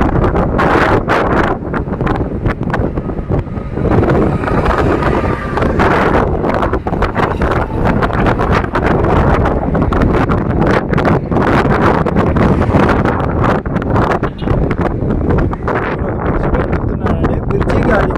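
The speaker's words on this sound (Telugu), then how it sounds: "గాలి సౌండ్ వినండి మీరే." Strong wind blasts across a bridge over a canal, battering the microphone with loud, continuous roaring and buffeting gusts for the full eighteen seconds, while a voice is heard now and then beneath it.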